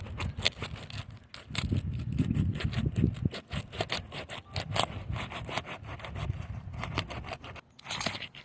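A crowbar pries and scrapes at asphalt roof shingles during a careful roof tear-off, producing repeated rough scraping, creaking and rubbing strokes, close and fairly loud, with short pauses between bursts.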